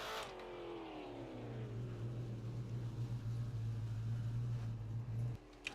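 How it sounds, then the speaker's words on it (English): Foxbody race car spinning celebratory donuts at Laguna Seca, its engine held at a steady loud drone after a falling rev sweep, close by and continuous before cutting off abruptly near the end. "as he does some celebratory donuts at Laguna Seca"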